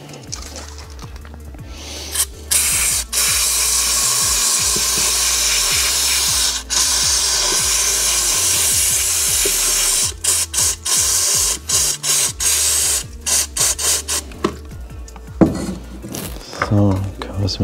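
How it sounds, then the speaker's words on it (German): Throttle body cleaner sprayed from an aerosol can onto the removed EGR valve of a Peugeot 407, loud hissing bursts of varying length broken by short pauses, with clinks of parts and handling noise. "Dafür habe ich jetzt hier Ansaugsystem und Drosselklappenreiniger."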